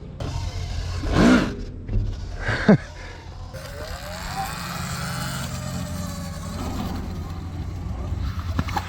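A Sur Ron X electric bike whines as it climbs a skate park ramp nearby, the motor pitch rising in a smooth sweep, and short whooshes come before it.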